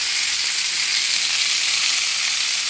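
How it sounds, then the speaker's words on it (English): Vegetables sauteing with green chilies and coriander in a pan of flour and butter: a loud, steady, close sizzle with an even hiss and no pauses. "I'm going to saute it with a lot of green chilies and coriander"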